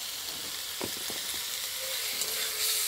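Meat for kosha mangsho fries with spices in a pan, giving a loud, continuous sizzle with a few soft stirring scrapes, close and without talk.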